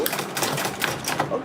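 A sewing machine stitches a front zipper onto an Ankara fabric tote bag, giving a steady, close rattling whir that runs for the whole stretch, with faint talk underneath.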